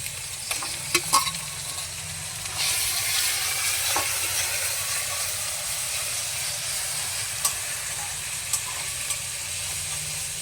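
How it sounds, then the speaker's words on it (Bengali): Onion with cumin and ginger-garlic paste fries in a pan while being stirred, giving a steady close sizzle with a few sharp scraping knocks from the spoon. "পেঁয়াজের সঙ্গে আদা রসুনের পেস্টটা কিছুক্ষণ আমি ভেজে নিলাম।"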